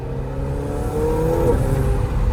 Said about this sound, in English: You hear the turbos, bro?